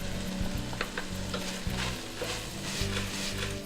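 Minced garlic and spices sizzle loudly in a pan for Greek pastitsio, with a continuous crackling fry and a few rhythmic stirring scrapes throughout.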